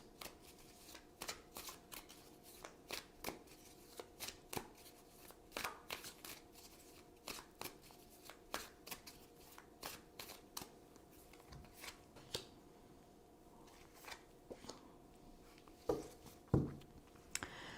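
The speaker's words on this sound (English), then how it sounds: "So now I'm going to choose 2 cards for possible outcomes." Tarot cards are shuffled and drawn by hand, making soft, close riffling and flicking sounds in an irregular series of light taps and brushes, with a slightly louder snap near the end.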